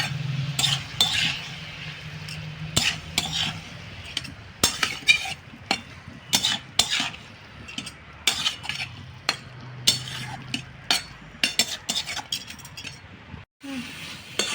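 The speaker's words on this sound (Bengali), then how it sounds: "ভালো করে আমি মিক্স করে নেবো এটাকে।" Banana flower being stirred with shrimp in a pan for a Bengali chorchori, a spoon scraping and clinking against the metal in an uneven run of strokes over a soft sizzle, close and fairly loud, with no talk.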